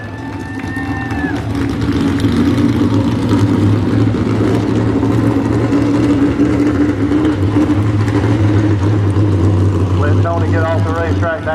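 Dirt street stock race cars roar around a speedway oval, a loud sustained engine drone with steady low rumble filling the whole stretch, while an announcer talks over it.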